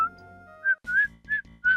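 A short whistled tune from a Dragon Quest VI game plays as a few clear, bright notes in a halting rhythm, with soft low tones backing the later notes.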